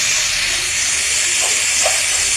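A turmeric, cumin and coriander spice mixture fries in a pan with a loud, continuous close hiss and sizzle throughout.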